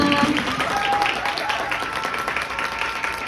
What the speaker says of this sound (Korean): 정말 훌륭한 강연해주신 수미애 의원님께 다시 한번 큰 박수 부탁드립니다